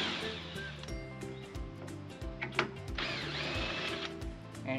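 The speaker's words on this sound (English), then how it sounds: "There's a diagonal brace, which I'm going to be removing now with 2 screws." A power drill whirs in short stop-start bursts while backing out screws from a diagonal brace on a gazebo roof frame, with a few metallic clinks between runs, close and fairly faint.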